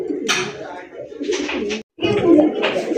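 Rajgolla pigeons coo close by in loud, rolling bursts, one call following another with a brief silent gap midway.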